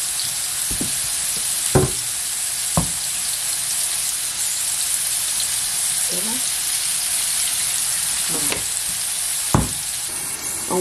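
Sliced Jerusalem artichokes sautéing in a pan, a steady bright sizzle with occasional scrapes and clinks as they are stirred, close and continuous.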